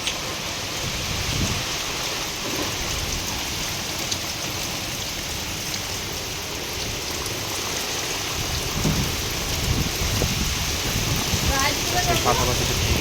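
Dense, steady rain hisses and drums outdoors in the Sundarbans during Cyclone Remal, a continuous roar with faint gusty swells and no clear voices.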